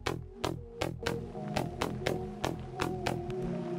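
A Serum synth saw bass patch plays alone as a steady rhythm of about ten short plucked notes. Each note hits sharply and then rings briefly before the next.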